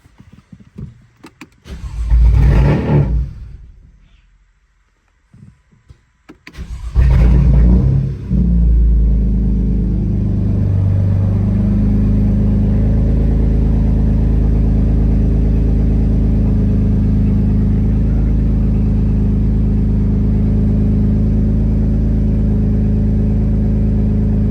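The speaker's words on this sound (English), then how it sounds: "Start engine." A BMW F80 M3 engine cranks and fires up, then settles into a steady, loud, deep idle rumble that continues to the end, with a brief earlier burst of mechanical noise before the start.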